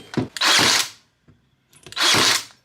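A GDYTOOL GDYAF50/40 cordless 2-in-1 nail gun running on a Makita battery fires into wood, giving two sharp, loud bursts of pneumatic hissing and clacking about a second and a half apart, with quiet handling between.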